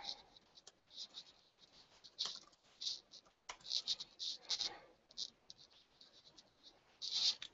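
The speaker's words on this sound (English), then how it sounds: "So in the video description, as I type it" Someone types on a computer keyboard in quick irregular bursts of close, crisp clicks with brief pauses between runs, while a voice talks intermittently.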